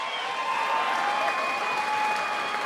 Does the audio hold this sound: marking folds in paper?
no